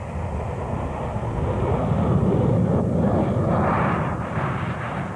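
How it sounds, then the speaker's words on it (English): A Concorde supersonic airliner roars past at low speed with its nose pitched up, a loud broad rumbling engine wash that swells toward the middle and then eases slightly, with no voices. "Pull the nose up on Concorde, and those unseen vortexes generate more lift."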